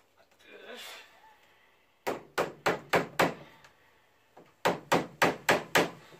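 Hammer blows on a longbow in progress ring out in two quick bursts of about six sharp strikes each, loud and close, after a quieter stretch of rustling.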